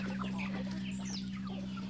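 Old, large farmyard hens clucking close by among breeding roosters in a coop, several short throaty clucks scattered over a constant low hum.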